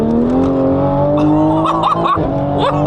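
A Toyota Supra MK5 with a Stage 2 tune of over 600 horsepower pulls hard and steady, its engine pitch climbing smoothly across the whole stretch with brief tire and road noise mixed in.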